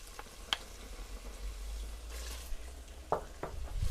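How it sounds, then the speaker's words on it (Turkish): Chopped medium onion added to a pan of meat that has cooked off its juices, frying with a low steady sizzle, broken by a few sharp clinks and stirring scrapes, no voices. "Ve soğanın kavrulmasını sağlayacağım."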